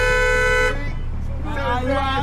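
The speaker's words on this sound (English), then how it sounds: "The taxi driver's natural reaction is to honk his horn to express his discomfort." A taxi horn honks in one sustained blast, then cuts off, leaving traffic noise and a second, fainter horn-like tone.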